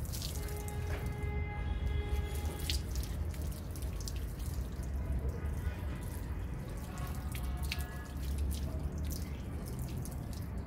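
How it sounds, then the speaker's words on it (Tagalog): Water running steadily over hair being rinsed after shampoo, a constant close splashing and trickling stream with light squishy movement, and a voice speaking briefly underneath. "Tapos, pabanlawan ko na yung aking buhok."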